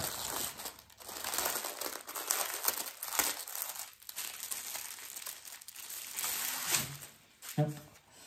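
Plastic and paper packaging of a DIY printed cross stitch kit crinkles and tears as it is opened by hand, in bursts of close, bright rustling with short pauses between.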